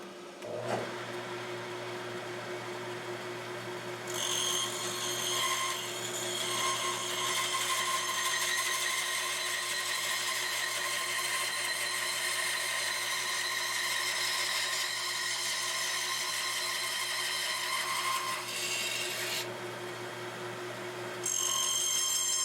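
A power tool cuts a piece out of wood at a workbench near a miter saw, a steady whining buzz running for about fifteen seconds at moderate volume, with a quieter motor hum before and after.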